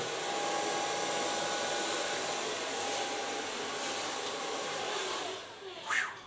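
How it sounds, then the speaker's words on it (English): Hair dryer blow-drying a short pixie cut, a steady close whooshing roar that holds evenly for several seconds before a brief shift in tone near the end, with no talking. "So for blow drying."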